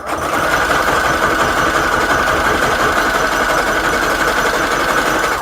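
A sewing machine runs steadily at high speed, stitching layers of book-page fabric in one continuous, even mechanical drone with no pauses and no voices.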